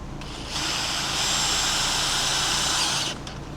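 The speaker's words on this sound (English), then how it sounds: "It's the fun part though, where I get to go put screws everywhere." A power drill drives screws into a new rub rail on a small skiff, one continuous high motor whine lasting about two and a half seconds between quieter moments, close and loud.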